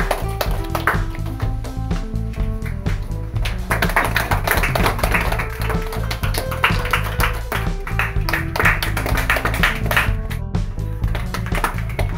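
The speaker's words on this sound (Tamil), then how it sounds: "கரகோஷத்தோடு" An audience applauds at a Tamil poetry book launch, a dense, steady patter of many hands clapping for about twelve seconds over a low, humming background tone, with no break in the clapping.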